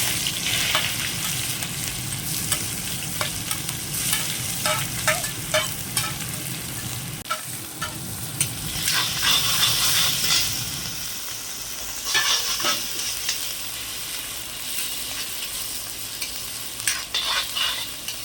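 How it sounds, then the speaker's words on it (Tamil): Sliced onions and curry leaves sizzle and crackle steadily in hot oil, with occasional stirring scrapes and pops throughout. "எண்ணெய் சூடாயிடுச்சு நம்ம இந்த பொடியை நறுக்கி வச்ச ரெண்டு பெரிய வெங்காயம் கருவேப்பிலை மூணு கொத்து அதே போட்டுக்கலாம்"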